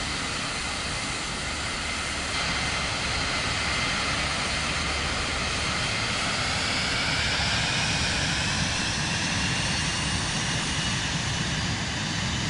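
A plane taxis on the runway in Microsoft Flight Simulator 2024, its engine giving a steady, loud roar that swells slightly as the clip goes on, with no talk.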